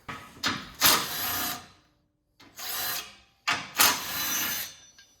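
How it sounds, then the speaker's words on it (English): Power tool spinning off two 13mm nuts on a diesel Jeep Gladiator during fender work, three separate whirring bursts of about a second each with short pauses between, close and moderately loud. "So we're going to take off these two 13mm nuts here."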